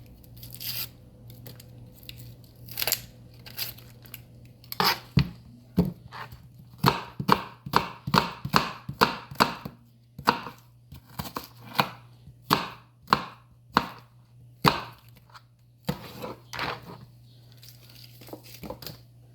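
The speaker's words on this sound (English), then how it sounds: "I'm gonna just cut up the rest of this onion" Knife chopping an onion on a cutting board: a steady run of crisp, close knocks, sparse at first and then quick and regular, with a low constant hum underneath.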